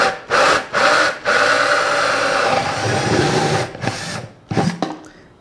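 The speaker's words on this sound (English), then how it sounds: "you can turn the drill go the other way." A handheld power drill runs in reverse, backing out of a freshly made hole in a hydroponic basil propagation setup: a loud, steady whir in two short bursts, then a long continuous run, ending in a few brief stop-start pulses, with no talk.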